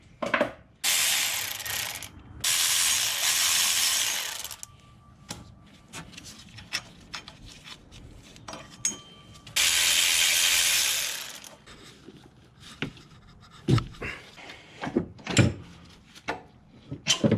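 A hand ratchet loosens the power steering pump bolts on a Toyota 4.7L V8 engine during engine removal, with bursts of fast clicking ratcheting and scattered metallic clinks and taps between them, close up and without talk.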